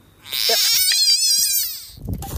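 A frog calls with a loud, drawn-out trilling croak, a rapid pulsing buzz that holds steady for over a second before breaking off into rustling.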